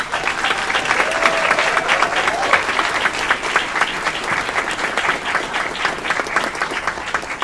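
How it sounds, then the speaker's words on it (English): A crowd at a Mayor's Award of Excellence ceremony applauds a city staffer, with steady, dense clapping lasting throughout, loud and close, with no speech over it. "Let's give him a round of applause."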